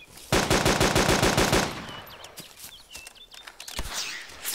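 Rapid bursts of automatic gunfire crackle for over a second, then stop, leaving scattered single shots and faint distant pops in an Arma 2 game battlefield.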